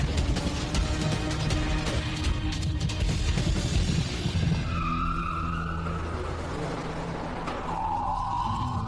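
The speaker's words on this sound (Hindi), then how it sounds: "जैक्सन की कार रॉकेट की तरह फिनिश लाइन की ओर बढ़ती जा रही है।" A race car speeding toward the finish line, loud engine roar and tire noise, with squealing skids rising near the end, close and continuous.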